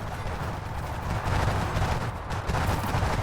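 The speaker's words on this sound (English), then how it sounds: "Hear that machine gun just hitting that tank?" Dense, continuous gunfire and battle noise from War Thunder infantry combat, with a machine gun hammering at a tank amid a loud, steady roar of shots and rumbling.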